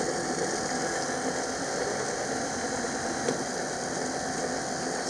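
A Raymarine rotary drive autopilot motor on a sailboat runs with a steady, even mechanical hum and buzz, close and unchanging, with a faint click partway through as the clutch engages.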